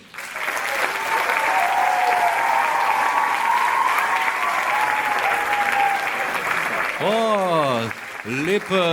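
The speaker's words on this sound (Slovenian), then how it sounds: "sedaj je čas, da slavnostno otvorimo z aplavzom tole prireditev" Loud, sustained applause from a large crowd, steady throughout, with rising and falling tonal voices or whistles breaking through near the end.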